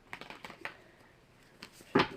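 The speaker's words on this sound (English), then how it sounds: "gonna take a minute to shuffle my cards here" Tarot cards are shuffled close and quiet: soft scattered taps and flicks, then a short, louder riffling burst near the end.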